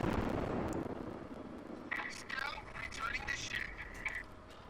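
Soviet cruiser Murmansk's guns firing in World of Warships, a heavy booming roar of a salvo at the start that decays into rumble, with someone talking over the later part.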